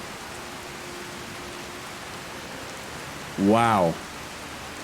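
Steady rain hisses evenly throughout in the video game Skyrim, a soft continuous wash. Near the end a man briefly exclaims over it.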